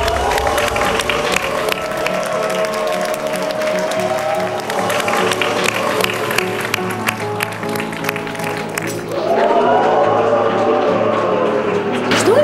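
Audience applause and cheering fill a studio at a televised X-Factor Armenia talent show, steady dense clapping over music, swelling louder near the end.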